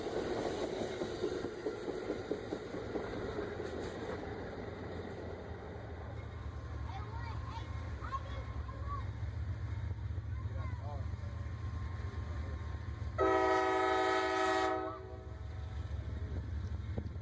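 An Amtrak Crescent passenger train rumbles past steadily in Birmingham, Alabama, with low engine drone and rail noise, a loud horn-like tonal blast sounding near the end; voices murmur underneath.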